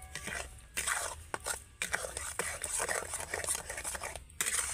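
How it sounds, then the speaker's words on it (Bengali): Ripe mango is stirred with sugar and salt in a pot, making close, continuous wet scraping and clinking from a spoon, with brief pauses between bursts of mixing. "এবার আমি ভালো করে এই চিনি লবণ আর আমটাকে ভালো করে মিশিয়ে নেব।"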